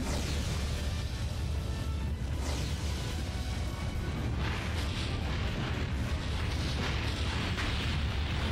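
An explosion attack in the video game The Legend of Dragoon produces a dense, continuous roaring blast that fills the whole stretch at high loudness, with no pause or speech.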